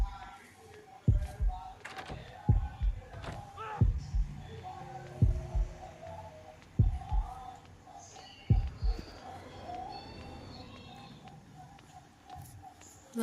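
A heavy heartbeat pulse from the horror video game Horrorfield thumps in a steady rhythm, about one deep beat every second and a half, loud and close over a murky hum of in-game ambience and scattered faint noises.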